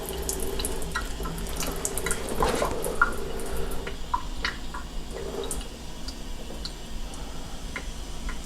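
Lukewarm water at fairly high pressure runs onto a tray of pepper seedlings, a steady close rush of spraying water with light drips and patter throughout.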